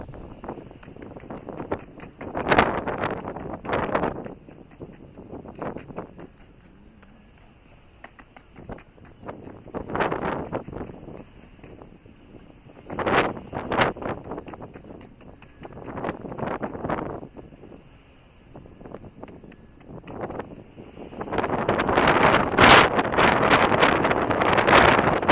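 Strong cold wind blows outdoors, buffeting the microphone in repeated rough gusts that swell and fade over about 25 seconds and grow heaviest near the end.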